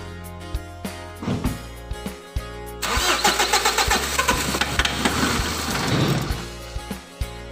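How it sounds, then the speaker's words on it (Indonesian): A car engine, being checked for oil seepage, cranks and catches. A few short clicks lead into a loud burst as it fires, then a rough, pulsing run for several seconds before it settles. "sebelum kita lakukan purging, kita hidupkan terlebih dahulu untuk mesinnya ya"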